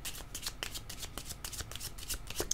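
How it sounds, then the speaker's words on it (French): Playing cards are shuffled and handled in a repeated, rapid rustling and flicking as cards are laid out in a spread, fairly close and with no talking. "Je pense que je vais ajouter une carte violette pour ici."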